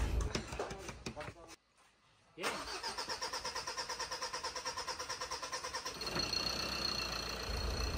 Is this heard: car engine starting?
yes